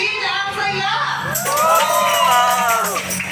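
At a christening and first birthday party, a crowd of adults and children cheers and shouts in a loud, swelling roar with whoops, sustained over a continuous backdrop of voices.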